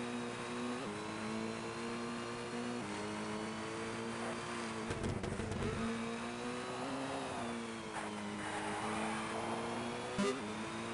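The Mitsubishi Lancer E4 rally car engine in the Colin McRae Rally video game drones steadily. Its pitch climbs, then drops at each gear change, with a rough burst about halfway through.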